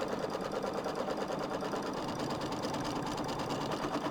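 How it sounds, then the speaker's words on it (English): An embroidery machine stitches out a fabric placement line, a close, steady rapid chattering of the needle running continuously throughout without pause. "So I'm going to stitch out step number 3 on both of these."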